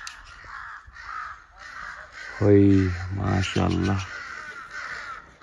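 Crows caw outdoors in Shopian, South Kashmir, in a loud cluster of harsh repeated calls near the middle, with softer caws around them and someone speaking briefly.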